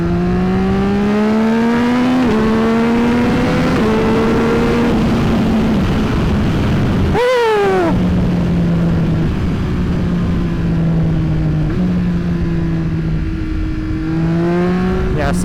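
A Yamaha R9 sport motorcycle engine drones steadily while riding in traffic, its pitch climbing and dropping through gear shifts, with one sharp rev burst in the middle.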